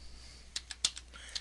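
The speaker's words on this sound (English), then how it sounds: "In the open text box, type" Keys tap on a computer keyboard in a quiet room, a short irregular run of about six light, crisp keystrokes with faint background hum.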